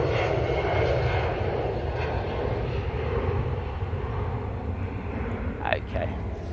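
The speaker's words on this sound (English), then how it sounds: "And then it will be the Emirates 777." A steady roar of an Emirates Boeing 777 airliner engine rumbles throughout, fairly distant and continuous, with people talking faintly over it at an airport.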